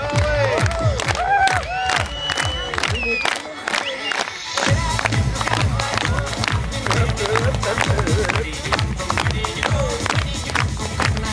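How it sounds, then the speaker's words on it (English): A crowd roars and cheers loudly and continuously for racers at a show, with an announcer's voice talking over the din. "Keep cheering these boys on."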